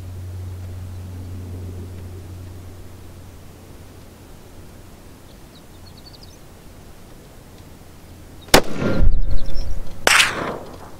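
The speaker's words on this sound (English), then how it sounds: "That was a cold shot too." An Axis II rifle fired at a 1000-yard target on a cold barrel: a low hum and quiet outdoor hiss, then a sharp, loud crack near the end, followed by a second burst of noise.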